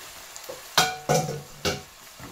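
Pasta is tossed into a prawn sauce in a pan, making three or four quick wet slaps and stirring scrapes over a faint sizzle, close up and with no voices.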